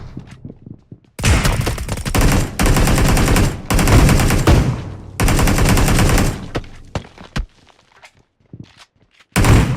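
Bursts of submachine gun fire in a battle royale video game, several long loud volleys in rapid rhythm separated by short gaps, with a final burst at the end.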